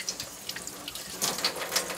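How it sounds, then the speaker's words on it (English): Hands being washed under a running kitchen tap, a close, steady splash of water with small bursts as the hands move, rising a little toward the end. "Make sure you wash your hands, you know what I mean?"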